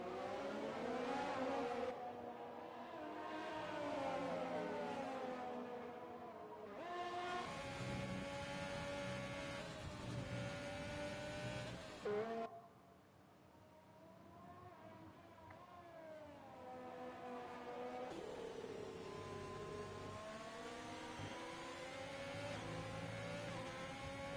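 In the F1 2020 video game at the USA circuit, Haas and Ferrari Formula 1 cars race with wailing, siren-like engine notes that rise and fall in long revving sweeps, broken by brief gaps between passes.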